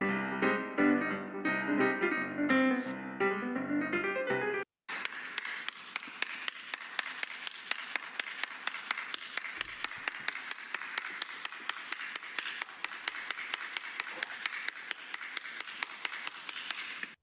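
After a short burst of music, a small group of people claps steadily and continuously at a moderate distance, a dense patter of sharp hand claps carrying on alone for over ten seconds.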